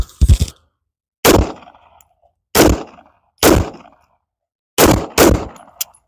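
Canik SFX Rival pistol fired at a range, sharp loud single shots in an uneven string of about six, each with a short ringing tail, separated by silence.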